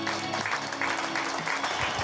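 Audience applause at the grand final of a pétanque festival in Saint-Juéry, greeting the national referee. The clapping is a dense, steady wash that runs through the whole clip, with faint voices and tones underneath.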